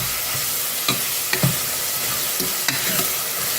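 Small shallots frying in hot oil for chicken curry, a steady close sizzle with several sharp scrapes and knocks of a spoon stirring the pan, no talk.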